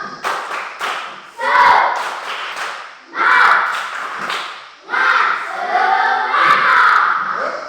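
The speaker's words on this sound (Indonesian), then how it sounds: "kita sama-sama tepuk semangat" Classroom group in Indonesian teacher-training session clapping a rhythmic spirit chant, tepuk semangat, led by one person; three loud bursts of claps and voices with short pauses between, fairly near.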